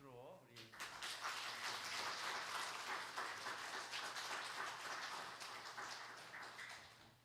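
Applause rises from the congregation at a church service, a sustained patter of many hands lasting several seconds, with a voice speaking briefly over the start.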